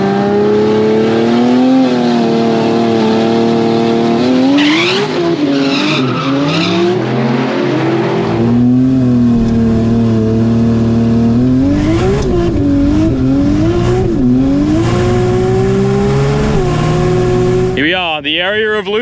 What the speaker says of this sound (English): we're going to do little burnouts, at least until it cools down